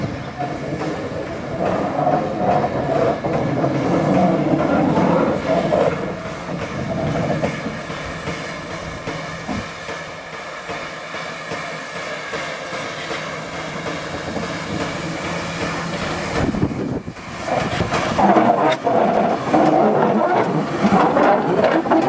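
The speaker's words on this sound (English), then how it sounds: "we start the video as the loco is just leaving the shed" A miniature railway locomotive pulling out of its shed, a steady rumbling engine with rolling wheels and rattling track, fairly close and loud throughout, with a noisier surge near the end and people's voices faintly in the background.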